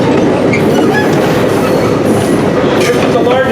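A 26-ton, 1,800-horsepower electric locomotive at a railway museum in Campo, California fills the air with loud, continuous rumbling and rattling, close by, with no pauses.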